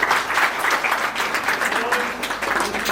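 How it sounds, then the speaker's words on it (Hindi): Loud, sustained clapping from a gathered audience at a retirement ceremony for a senior manager, a dense steady patter lasting about three seconds. "एक बार फिर ताली मेरे भाई को।"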